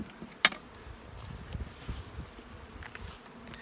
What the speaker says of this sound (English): So I'm looking at not quite a box of bees here, maybe 8 to 9 frames of bees.